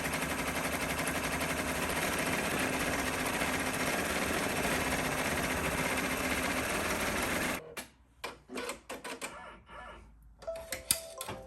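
An embroidery machine stitching a triple bean stitch around a heart on a shabby chenille piece, a loud continuous rapid mechanical rattle that stops abruptly, followed by sparse clicks and handling noises.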